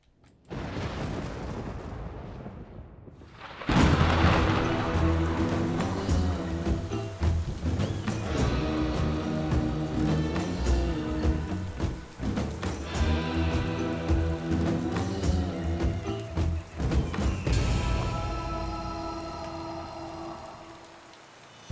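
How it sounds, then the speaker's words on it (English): Heavy rain pours steadily on the open ocean in a Minecraft game, a dense, continuous hiss with occasional deep rumbling thunder, loud and close throughout. "The winds were high and the rain was heavy"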